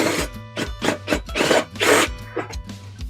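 A 9/16 wrench works loose the bolt holding a dull Murray lawnmower blade, giving a close series of about seven rasping, ratcheting strokes in an uneven rhythm with brief pauses between them.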